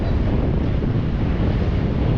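Ocean surf and strong wind at a beach, a loud, steady roar with heavy wind buffeting on the microphone and no voices.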